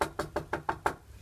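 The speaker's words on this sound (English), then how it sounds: "They walked to the next house and they knocked on the door." Six even, hollow knocks rap on a door at a steady quick rhythm, close and fairly loud, with nothing else heard.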